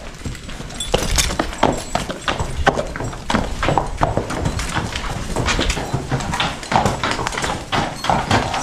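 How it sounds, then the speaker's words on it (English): Draft horses move about a barn with dense, overlapping hoof clops and thuds on the floor, joined by rustling and knocking from chores, loud and close. "Jim has some chores he wants to do out here in the barn, working a lot of different horses"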